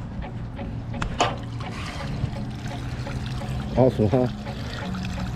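Water trickles and pours nearby in a continuous, uneven gurgle, with a person talking over it and a couple of brief splashy bursts.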